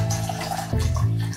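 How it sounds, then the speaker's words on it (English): Spring water is poured into a cup in one short, steady, close-up stream lasting just over a second, with no talking. "So I'm gonna try to get up to 2 cups, around 8 ounces of our spring water here."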